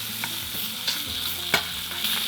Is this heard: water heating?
no